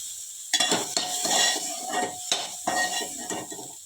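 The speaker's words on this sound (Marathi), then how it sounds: "छान कांदा आपल्याला अजून गोल्डन भाजून घ्यायचा आहे" Onion frying in a pan for misal, with a steady sizzle and repeated metallic scrapes and clinks of a spoon stirring against the pan, close and fairly loud, and no talk.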